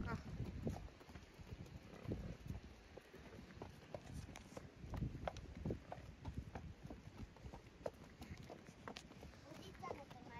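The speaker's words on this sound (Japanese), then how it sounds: "パカパカ" A horse's hooves clip-clopping at a walk on a group stroll, a steady run of close hoof falls throughout, with people chatting over them.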